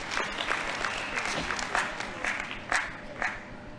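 At the opening of a national political party conference, an audience in a large hall claps in moderately loud, sustained applause with occasional sharper individual claps.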